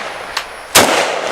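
An entry-level AK rifle fires outdoors: a faint sharp crack comes first, then a much louder, close gunshot whose report rings out and decays slowly.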